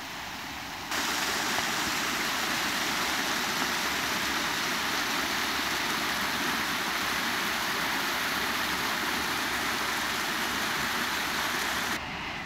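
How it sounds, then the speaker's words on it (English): Rain-fed flowing water and waterfalls at Goldstream in Victoria, BC, give a constant broadband rush, steady and fairly loud, with no voices over it. "it creates all this gorgeous flowing water and all these beautiful waterfalls"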